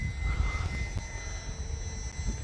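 An E-flite UMX Turbo Timber, a small RC airplane, drones steadily in flight, its electric motor giving a continuous whine with a constant pitch and a rushing airflow layered underneath.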